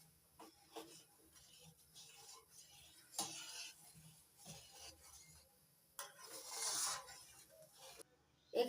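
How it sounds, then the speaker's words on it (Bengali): Tomato mixed with Kashmiri red chilli powder is stirred in a pan for homemade tomato sauce, producing faint scattered scrapes and soft clicks with a few louder sizzling swells. "টমেটো পাতের সঙ্গে ভালো করে মিশিয়ে নিচ্ছি"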